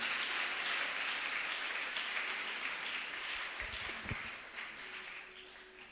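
A church congregation at a women's conference applauds to acclaim the Lord, a steady wash of many hands clapping that slowly fades toward the end, with a brief low thump near the close.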